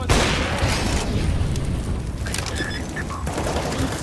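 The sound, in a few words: flashbang grenade exploding in Counter-Strike video game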